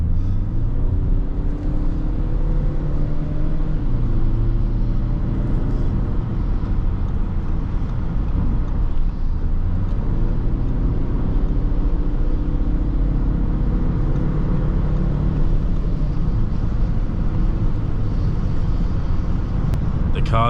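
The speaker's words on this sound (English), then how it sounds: "The car changes gears really smoothly." Audi A6 Avant 2019 estate with a 2.0 TDI 204 hp diesel, heard from inside while driving and accelerating, a low steady engine and road rumble with rising tones as it pulls through gear changes.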